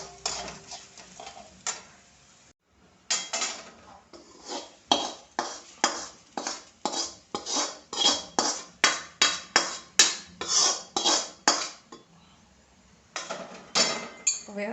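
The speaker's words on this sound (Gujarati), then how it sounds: "એકદમ ધીમેથી બધું મિક્સ કરી દેવાનું છે, એટલે બધો મસાલો આખા પૌવાને મળી આવે" A spoon scrapes and taps against a pan in a fast, even rhythm as spiced tempering is stirred into poha chivda, the close, clattering strokes running steadily with a short pause.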